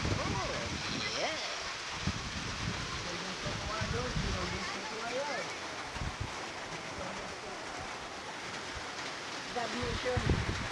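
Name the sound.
rain falling at a beach on Dinagat island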